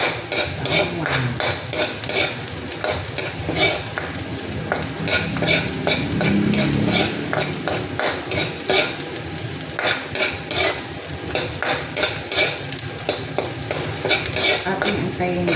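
Chopped garlic fries in a pan for a creamy chicken asado, with a steady close sizzle under repeated scraping and clinking as a utensil stirs it against the metal. No one speaks.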